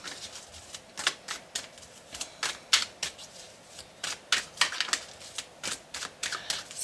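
Tarot cards being shuffled by hand in a rapid, uneven series of crisp riffling flutters, close and fairly quiet, with no talking.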